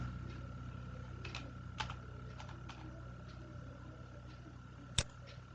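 Quiet computer keyboard typing during a software download tutorial: a few sparse, faint key clicks over a steady low hum, with one sharper tap near the end and no talk.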